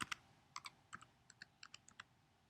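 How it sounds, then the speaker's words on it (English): Crisp keystrokes on a computer keyboard while a word is typed into a spreadsheet cell, a quick, uneven run of close, quiet clicks with no one speaking. "I'm going to type quantity."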